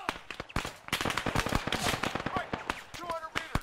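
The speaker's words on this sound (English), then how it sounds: "Ooh, that's a lot of fire coming my way." Heavy incoming gunfire in the Arma 3 military shooter, with a dense stream of sharp rifle and machine-gun cracks and distant booms arriving in rapid irregular bursts, loud and sustained throughout.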